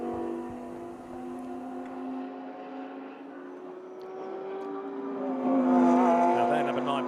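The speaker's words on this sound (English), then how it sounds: "Now there, number 9 Porsche on track." Race car engines whine on the Kyalami circuit during a nine-hour GT endurance race, a steady tonal drone from the number 9 Porsche and other cars that builds louder toward the end as a car passes closer.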